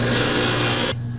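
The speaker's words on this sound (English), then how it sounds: "We have to trim this excess plastic off now. I think just flap wheel. Just put it on the grinder." An angle grinder fitted with a flap wheel trims excess plastic during a GM door hinge rebuild, a loud, close, rough grinding burst of just under a second that cuts off abruptly.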